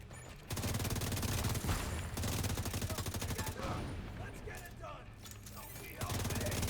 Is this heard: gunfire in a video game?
yes